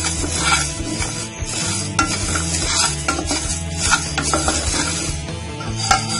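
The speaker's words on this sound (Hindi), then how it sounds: "इसे हमें बिल्कुल लो फ्लेम पर सेंकना है पूरे मसालों को" Cumin and fennel seeds dry roasting in a pan over a low flame for pav bhaji masala, giving a continuous close crackle and rustle as the seeds are stirred, with scattered sharper ticks and scrapes of the spoon throughout.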